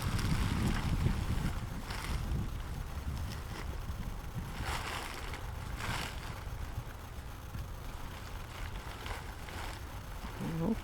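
Wind blowing outdoors during a Coleman instant tent setup: a steady low rumbling buffet across the microphone with faint rustling, continuous and unbroken throughout, no clear voices.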